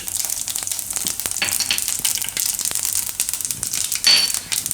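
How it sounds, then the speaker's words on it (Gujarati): Cumin seeds and asafoetida crackle and sizzle in hot oil on a lowered gas flame, the oil left over from frying methi malai muthiya for a Gujarati shaak; a steady close frying hiss with scattered pops and a brief louder burst near the end. "તો એમાં પહેલાં જીરું નાખશું"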